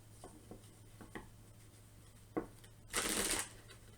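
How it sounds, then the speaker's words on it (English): A deck of tarot cards is shuffled up close in a quiet room: a few soft flicks and taps, then one brisk riffle burst near the end. "I stopped in the middle of a shuffle."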